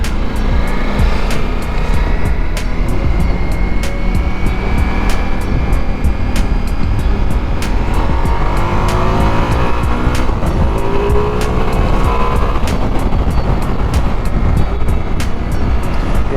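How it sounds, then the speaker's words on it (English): A Ducati Multistrada V4S motorcycle with its V4 engine on the move produces a steady, unbroken roar blended with heavy wind rush the whole way through, with no voices. "this bike just flies. That V4 engine is fantastic."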